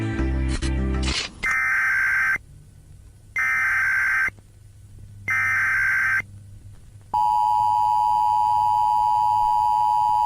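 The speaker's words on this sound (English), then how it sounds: "Those alarm sounds never mean anything good though" Loud electronic weather warning alert tones: a brief burst of noise, then three evenly spaced beeps separated by gaps, followed by a long sustained steady tone.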